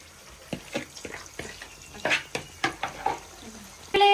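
Chicken frying in a pan with ginger and garlic for chicken rice, a steady sizzle broken by repeated stirring scrapes and a few clinks of utensil against the pan, close up with no talking.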